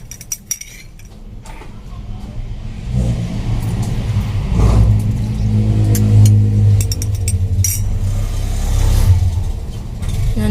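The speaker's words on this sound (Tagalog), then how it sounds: "Tumitigil na lang yung sasakyan." A car pulls up at a roadside sari-sari store in the Philippines, its engine idling and revving loud and close, then drives off, with light clinks of items and dishes in the background.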